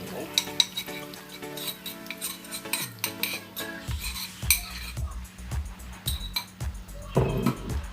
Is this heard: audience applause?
no